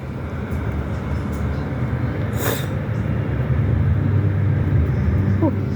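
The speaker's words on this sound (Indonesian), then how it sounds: "Di atas tuh ada KRL." A KRL commuter train runs overhead in Jakarta, heard from inside a moving Transjakarta bus as a steady low rumble and roar that fills the whole stretch, with a brief higher whoosh partway through.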